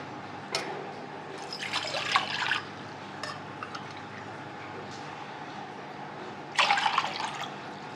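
Water poured from a bowl into a cooking pot for sweet varai (barnyard millet) rice, with two bursts of splashy, trickling pouring near the mic, separated by a quiet pause and a few faint drips.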